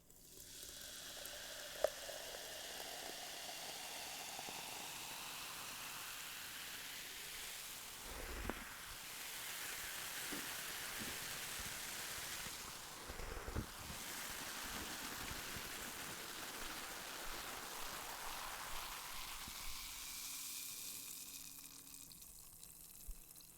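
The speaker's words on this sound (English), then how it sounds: "pour out Diet Coke with my cake" Freshly poured Diet Coke fizzes with a soft, steady, close hiss of bubbles, quiet throughout, with a couple of brief louder surges partway through.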